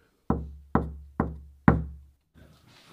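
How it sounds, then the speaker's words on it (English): Four firm knocks on a door, evenly spaced and close, each with a short resonant decay, followed by faint background rustle. "Guess I just knock on the door."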